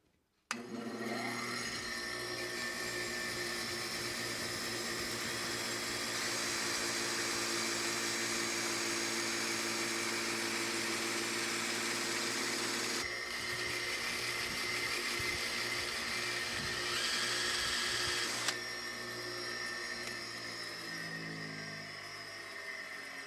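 A long bolt from a Honda CT200 Trail 90 spins in a lathe chuck while being cleaned, a steady loud whirring motor drone with grinding texture that changes character partway through before winding down.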